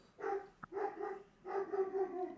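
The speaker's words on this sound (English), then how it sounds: "The dog approves." A dog gives a series of close, sustained whining barks or yowls, three main drawn-out calls with a short sharp sound between, no speech.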